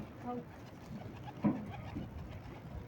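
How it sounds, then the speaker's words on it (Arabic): A pigeon in a loft gives a brief, soft coo over quiet background murmur, with one slightly louder note midway. "فرد الحمام اهو هناك اهو"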